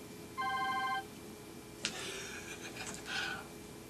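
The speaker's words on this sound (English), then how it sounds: "It's the attorney's phone." An attorney's phone rings in a radio studio during a real-estate talk show: one short electronic ring burst, then a sharp click and brief rustling and a faint second tone, heard fairly close with no speech.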